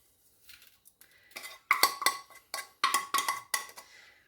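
A spoon clinks against a bowl while stirring spices into a thick yogurt chicken marinade for tandoori-style roast chicken, giving a series of close, fairly loud scraping clinks in an uneven rhythm.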